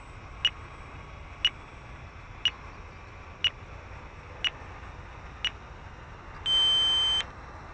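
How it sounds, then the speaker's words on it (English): RC flight timer on an E-Flite 1.2m Corsair transmitter beeps six times at an even one-second pace, short sharp tones over steady outdoor wind noise, ending in a longer buzzing tone. "There goes our timer."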